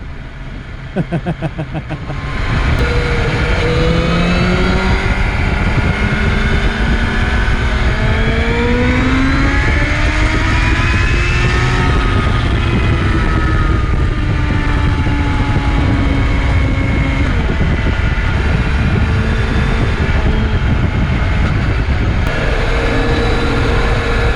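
Rider on a 2025 MV Agusta Brutale 1000RR naked motorcycle scrubbing in new tyres, the engine droning loud and steady close by with rising and falling revs through gear changes over wind rush.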